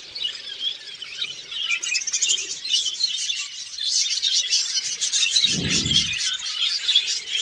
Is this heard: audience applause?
no